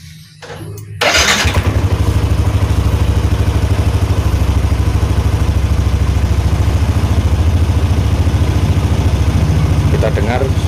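A Yamaha NMAX scooter fitted with a Daytona Ignimax spark plug cranks briefly and catches, then settles into a loud, steady close-up idle with a fast regular throb that carries on to the end.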